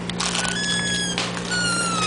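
A pet kitten mews a few times in a home kitchen, its high thin cries drawn out and close, over a steady low hum.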